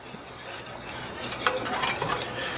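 Dijon salmon pasta sauce is stirred in a pan, a soft scraping swirl under a low sizzle that builds slightly, with a few light utensil scrapes near the end; no talking.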